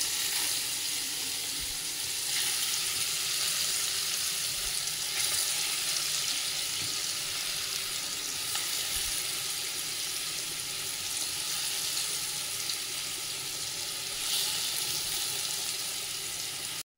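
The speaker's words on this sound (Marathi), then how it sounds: "थोडंसं पनीर आपण फ्राय करून घेऊया." Spiced, marinated paneer fries in hot oil with a constant loud hiss and crackle that carries on without break for the whole stretch, no voices over it.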